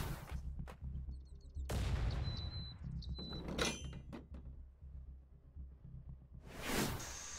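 Gunfire at zombies in the video game Night of the Dead, as several sharp broadband shots in bursts over a steady low droning game background, with no talking.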